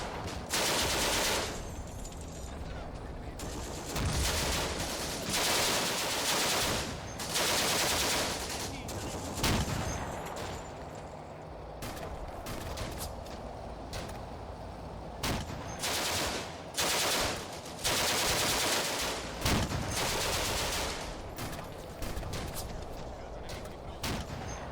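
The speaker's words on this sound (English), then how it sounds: "we heard a gun of some sort" Sustained gunfire and explosions in the video game Combat Mission: Afrika Korps, a World War II battle at Gallabat, with dense bursts of shots and heavy booms running loud and continuous throughout.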